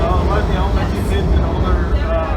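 A Washington Metro 6000-series train approaches on the red line, a loud, continuous low rumble and wheel roar filling the station with a faint metallic squeal above it.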